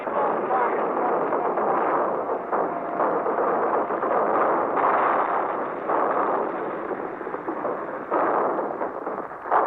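A dense, unbroken barrage of gunfire and shelling during the first U.S. troop landing on Palau rumbles and crackles together, loud and continuous with no clear pauses.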